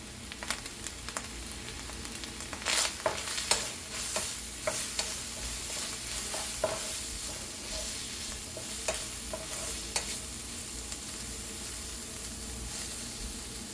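Spice masala mixture of chili powder, coriander powder, garam masala and salt being stirred in a pan, scraping spoon strokes with irregular clacks over a soft continuous sizzle, no talk.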